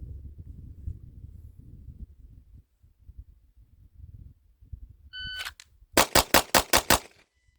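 Pistol shots from a timed draw drill ring out as six sharp, loud cracks in quick even succession, preceded by a shot-timer beep and faint shuffling.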